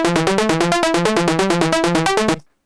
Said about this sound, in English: before you maybe have made an ARP or something that sounds like this